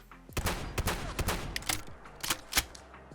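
A modded shotgun firing its third barrel in the video game Fallout 4, several sharp booming shots with mechanical clacks between them, close and loud.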